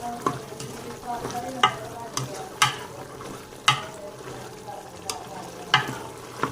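Black chickpeas roasting in about half a cup of hot oil, with a continuous near sizzle and repeated sharp spoon knocks and scrapes at irregular intervals as they are stirred.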